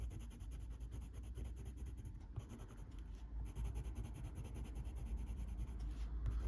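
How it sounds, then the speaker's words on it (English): Quiet, continuous scratching of a blender pencil rubbing across coloured pencil on paper in short back-and-forth strokes, close up, with a faint high hum behind it. "I'm going to use my blender pencil now"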